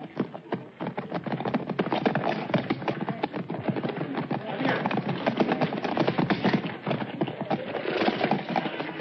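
Horses gallop with dense, fast hoofbeats clattering loud and close, a steady drumming rumble that runs without a break.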